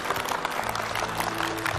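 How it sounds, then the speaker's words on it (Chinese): A TV studio audience gives a standing ovation, a dense, steady patter of many hands clapping together with no break. "我们起立，把掌声和敬意送给先生"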